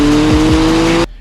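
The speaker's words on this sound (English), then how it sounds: "You are going to have to get used to hearing cars starting up all the time" Supercar at a dealership starting up and revving, a loud close engine drone with a steady tonal hum and brief rising sweeps, which stops abruptly.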